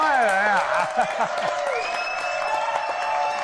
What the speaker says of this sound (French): Applaudissements pour Doudou Style.